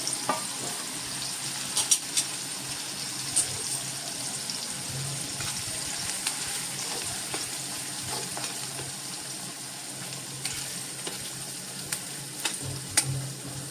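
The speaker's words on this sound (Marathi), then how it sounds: "आता हा चांगला ट्रान्सलुसंट होईपर्यंत आपल्याला परतायचा आहे." Chopped onion sautés in a pan with a pinch of asafoetida, giving a continuous soft sizzle with occasional faint clicks of a stirring spoon, steady and moderately close, with no voices.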